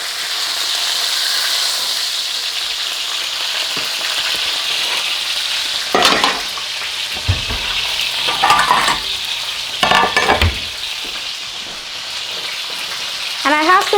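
A ribeye steak fries in hot oil in a pan, giving a steady loud sizzle throughout, with a few louder bursts and scraping knocks midway as the meat is lifted and set back down.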